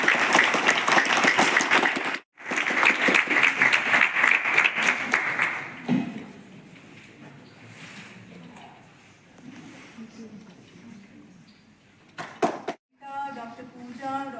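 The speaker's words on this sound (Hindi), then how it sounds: "तालियां बच्चे को।" A crowd claps for a child at a school awareness event, loud and continuous for several seconds, then breaking off into quieter murmurs, a few scattered claps and voices speaking.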